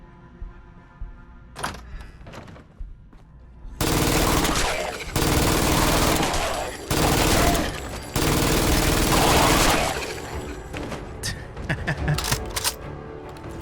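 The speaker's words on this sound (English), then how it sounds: "I'm definitely going to take out the old MG34" Machine-gun fire from an MG34 in the Fallout 4 video game, rattling out in loud, sustained automatic bursts separated by short pauses, after a few isolated thumps at the start.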